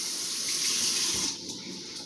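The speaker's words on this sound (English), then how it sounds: "tonight we're making artichokes, and we're gonna wash these off" Tap water runs steadily into a kitchen sink as fresh artichokes are rinsed, a close, even hiss that eases slightly toward the end, with no talking.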